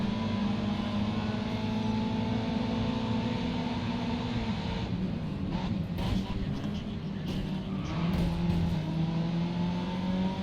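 A big turbocharged inline-five car engine in the racing game Grid Autosport drones at steady revs, its pitch dipping midway before settling again, as a moderately quiet continuous tone with faint crackles.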